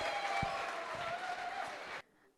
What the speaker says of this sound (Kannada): ಚಪ್ಪಾಳೆ ಹೊಡಿಸ್ಬೇಕು.